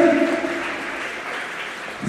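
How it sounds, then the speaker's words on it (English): Audience applause for student volunteers at a school event, steady dense clapping that stays level and fades slightly near the end. "Round of applause, please."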